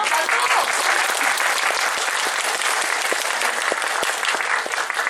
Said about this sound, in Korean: 이게 강요가 아니라 그냥 진심으로 하는 박수이죠